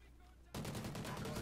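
A Remington rifle fires rapidly in Call of Duty: Ghosts, a sudden burst of loud, rattling shots starting partway through and running to the end, close and dense.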